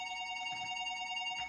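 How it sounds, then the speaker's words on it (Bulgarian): A telephone rings with a steady electronic tone made of sustained, faint pitched notes that run through the whole short stretch, with no talking. "Това е телефон."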